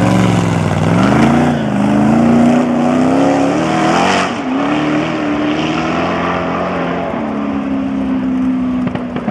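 A giant 589 kg motorcycle's engine revs loud and close, its pitch climbing, dipping and then holding a steady droning tone.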